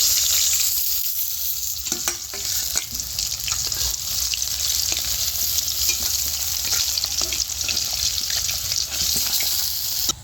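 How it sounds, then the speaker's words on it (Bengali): Sitapati fish pieces frying in a pan of oil, a loud, steady close sizzle with scattered crackles and light scraping touches throughout. "বাকি মাছগুলো ভেজে নেব"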